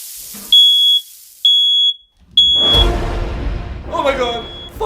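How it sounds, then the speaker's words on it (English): A smoke alarm shrills three loud, high-pitched beeps in a row, then a burst of commotion and a shouting voice follows while a fainter beep continues underneath. "Fire alarm!"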